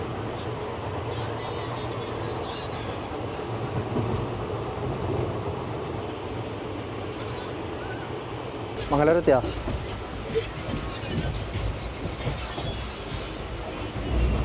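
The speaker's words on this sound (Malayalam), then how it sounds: "ട്രെയിൻ അങ്ങന്ന് വരുന്നുണ്ട്" A passenger train runs toward Mangalore with a steady low rumble and rolling rattle throughout, a brief sharper screech midway, and people talking over it.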